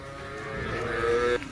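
A cow wading through floodwater in a low-lying area after rain gives one drawn-out, fairly close moo that ends abruptly.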